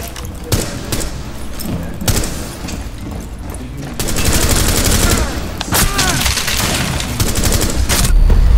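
Gunfire in the video game Rainbow Six Siege, with sharp single shots and then sustained bursts of rapid automatic fire, loud and close, accompanied by thuds and a low rumble.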